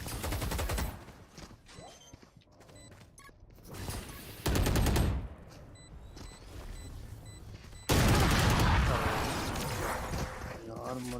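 Valorant swarm grenade detonating during a VCT Champions Istanbul 2022 grand final match, heard as loud bursts of crackling, popping blasts that surge and fall in repeated waves over game noise and caster talk.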